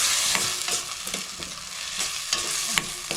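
Chopped tomato and curry leaves fry in a pan with turmeric and salt, a close hissing sizzle punctuated by repeated spoon scrapes and stirs at an uneven pace, with no voices.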